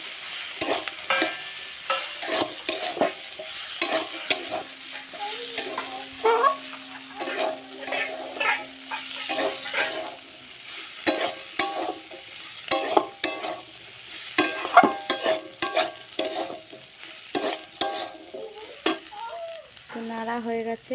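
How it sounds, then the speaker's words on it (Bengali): A spoon scrapes and stirs chili powder into a Malabar spinach dish frying in a pan, with a continuous sizzle under irregular scraping strokes and light clinks against the metal, close and clear. "এরপরে দিয়ে দিচ্ছি লঙ্কার গুঁড়ি, দিয়ে একটু নেড়ে নিই"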